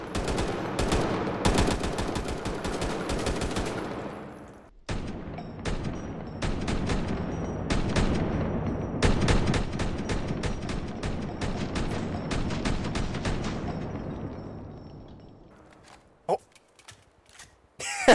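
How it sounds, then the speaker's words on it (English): Rapid bursts of FN SCAR rifle fire in a video game, loud and close, come in long dense volleys with brief pauses and fade out near the end. Faint talk sits underneath. "So the FN Scar, right? This is a recoil heavy gun, so good luck with it."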